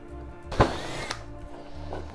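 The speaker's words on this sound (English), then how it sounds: "So I just drilled out all four corners." A short burst of power-drill whirring and grinding into a VW Beetle's metal body, lasting about half a second, surrounded by quieter mechanical rattling.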